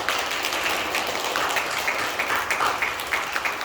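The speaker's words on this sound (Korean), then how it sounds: "큰 박수로 환영하겠습니다." A church congregation at an Easter thanksgiving service in Venice, Florida claps to welcome a newly confirmed member, a dense, even round of applause filling the room for several seconds with no voices.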